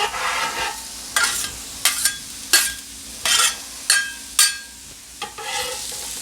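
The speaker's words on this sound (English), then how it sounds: "I'm going to put my onions and mushrooms down" Onions and mushrooms sizzling on a flat-top griddle, with a spatula scraping and stirring in about eight sharp, regularly spaced strokes over a softer steady sizzle.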